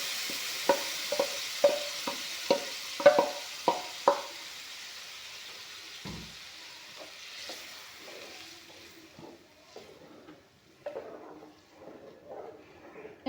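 Tomato paste frying in a pan is stirred with a run of regular, close scraping strokes, followed by looser, irregular stirring over a soft sizzle.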